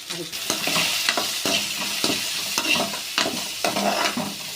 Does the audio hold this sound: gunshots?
no